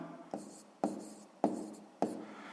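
Pen strokes on notebook paper while writing a maths answer, four short scratchy bursts in a steady rhythm, close and fairly quiet, with no talking.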